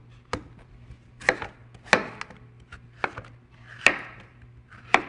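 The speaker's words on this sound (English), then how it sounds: "I'm going to give it a quick chop as well" A knife chops through a cantaloupe on a cutting board, sharp distinct knocks spaced about a second apart, close and fairly crisp over a faint steady hum.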